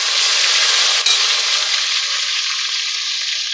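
Tomatoes drop into hot oil with whole cumin and five-spice, giving a loud, steady close sizzle that dips briefly near the start and then carries on evenly.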